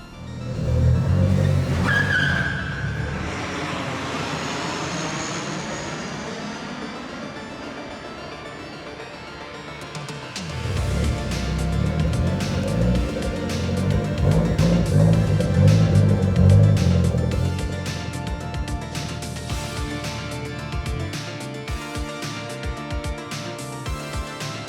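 A Nissan Skyline R30 RS-Turbo drives off at night, its engine revving up with brief tire squeal, then a louder, sustained run of engine noise that gradually fades, with no talking.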